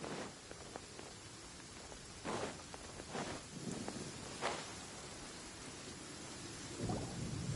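A thunderstorm in the Genshin Impact video game: steady rain hisses throughout while several low thunder rumbles and cracks break in at intervals, fairly quiet overall.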